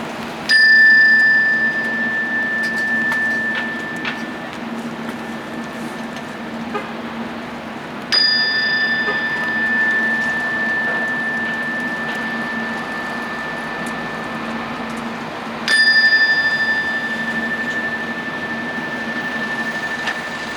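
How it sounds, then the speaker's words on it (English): A bell rings out three times at a peace rally and march supporting the nuclear ban treaty. Each bright, resonant strike comes about seven seconds apart and hangs in a long, ringing decay over steady outdoor background noise. "So let me now ring the bell 3 times."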